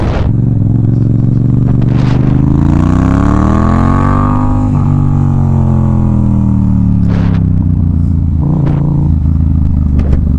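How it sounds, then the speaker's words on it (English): A Yamaha FZ-07 motorcycle engine with a custom exhaust revs up and settles, loud throaty exhaust note close to the microphone, with a few sharp clicks in between. "so that you guys can hear the new exhaust that I put on"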